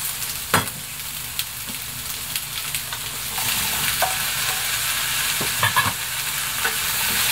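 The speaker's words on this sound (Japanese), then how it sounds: "軽く炒めます" Chicken breast, carrots and potatoes are stir-fried in a pan, with a gentle continuous sizzle and intermittent scraping and stirring clicks close by.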